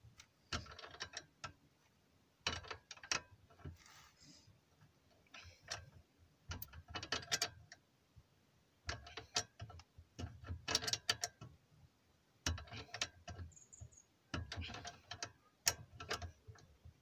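A ratchet loosens a suspension arm bolt on a small Nissan or Suzuki car, producing bursts of quick metallic clicking separated by short pauses, close and fairly quiet, with no talking.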